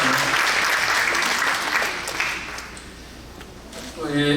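Congregation applause at a worship service marking a church general assembly president's inauguration: loud, dense clapping from a crowd that thins out, with a voice speaking as it ends.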